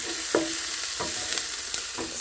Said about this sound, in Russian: Лук обжарился